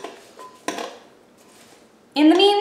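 A child stirs cinnamon-coated apples in a bowl while making apple crisp, giving a few scattered clinks and scrapes of utensil against bowl, followed by a louder ringing clatter at the end.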